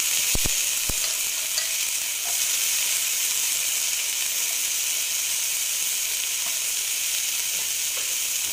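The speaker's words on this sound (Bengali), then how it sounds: "একটু মটর কড়াই দিয়ে দিচ্ছি।" Peas and carrots fry in a pan with a loud, steady sizzling hiss that runs unbroken throughout, plus a couple of sharp utensil clicks at the start.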